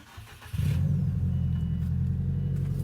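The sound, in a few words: four-cylinder car engine revving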